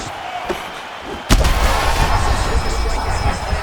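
A heavy punch lands in the EA Sports UFC 5 video game during a five-round fight. It comes as one sharp, loud impact about a third of the way in, and crowd noise and arena ambience hang under it.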